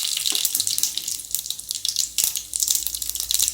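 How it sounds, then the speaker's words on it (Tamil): Mustard seeds sizzle and crackle in hot oil while tomato thokku is being made, giving a steady bright hiss with scattered pops throughout and no talking. "எண்ணெய் காஞ்சிருச்சு. இப்போ கடுகு போட்டுக்கலாம்."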